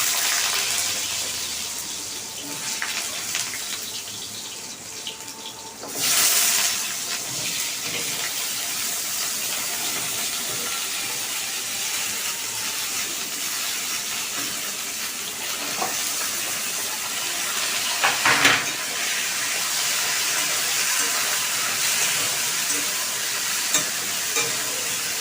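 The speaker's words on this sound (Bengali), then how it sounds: "আমি একে একে সব সবজিগুলো কড়াইয়ে দিয়ে দেবো" Chopped vegetables (water spinach stems) hitting a hot kadai for a Bengali-style vegetarian curry: a loud, dense, continuous sizzle lasting the whole stretch, with a sharper burst of spitting early on and scraping stirs throughout.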